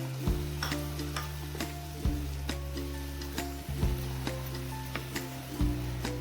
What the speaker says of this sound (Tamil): இப்போ இந்த சிக்கனில் நம்ம அரைச்சி வச்சிருக்க பேஸ்ட்டை சேர்த்துடலாம்.